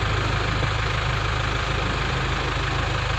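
A Nissan Terrano diesel engine with an FS5R30A manual gearbox idles with a low, even rumble and no change in pace, close by and alone.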